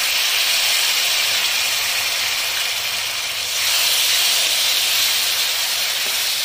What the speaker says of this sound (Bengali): মশলাটা কষানো হয়ে গেছে, এবারে দিয়ে দেবো টমেটো পেস্ট।